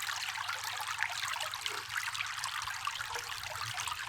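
Low, steady trickle of water running down an inclined stream sluice used for glacial gold prospecting, a continuous bright dribbling wash with faint low rumble beneath, close and even throughout.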